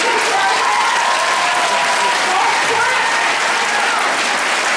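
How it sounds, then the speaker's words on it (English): Steady, dense applause from an audience at a school board meeting, loud and continuous throughout with no pauses. "Don't clap, that's my time"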